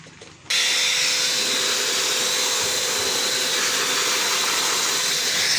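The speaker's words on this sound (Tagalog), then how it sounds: "buga muna ako ng pangbuga ko na vacuum." A vacuum blower kicks on abruptly and runs as a loud, steady, close rushing whoosh with a thin whine, blowing dust out of a Sharp slim CRT TV.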